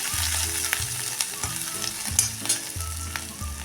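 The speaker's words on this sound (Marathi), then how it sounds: "आता टाकूया हे आलं लसूण हे थोडं परतून घ्या" Ginger and garlic frying in a pan, giving a steady close sizzle with rhythmic stirring and scraping strokes and a few light clinks, with no voices.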